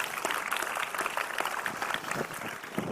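An audience claps at a tech talk about re-imagining the browser with AngularJS, a brief round of scattered, moderately loud hand claps with a few voices mixed in.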